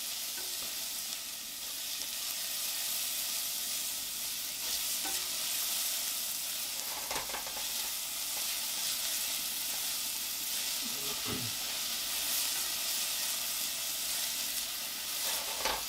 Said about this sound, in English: Get that satisfying sizzle.